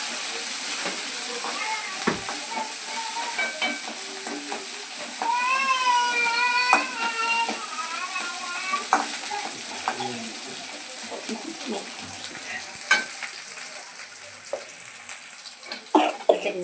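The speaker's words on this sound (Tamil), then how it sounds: "வெங்காயம் வதங்கட்டும்." Chopped onions sauté in hot oil with mustard seeds and curry leaves, a steady sizzle and hiss with scattered stirring clicks; there are also occasional tonal squeaks or voice-like sounds.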